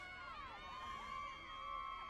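Crowd noise from fans at a Pecan Bowl playoff football game, a steady, distant wash of cheering and shouting voices with bright whistle-like tones over it, continuous for about two seconds.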